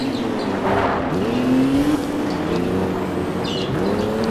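Cars race with a steady engine roar and squealing tires in the Alarm für Cobra 11 video game, the sound loud and continuous with a rising tonal whine through the middle.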